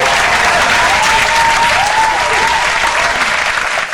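A large crowd applauds loudly and steadily for several seconds, with faint cheers mixed into the clapping.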